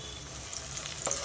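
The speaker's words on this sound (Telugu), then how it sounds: "ఉల్లిపాయలు చక్కగా వేగిపోతున్నాయి" Onions frying in oil for a chicken gravy curry, a steady, close crackling sizzle lasting just over a second with no voices.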